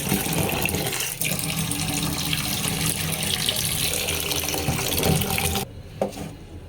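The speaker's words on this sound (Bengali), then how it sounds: "এখন ডালটা ধুয়ে" Soaked lentils rinsed under a running kitchen tap, a steady, close, loud stream of water splashing for several seconds, then cutting off to a quieter drip and rustle near the end.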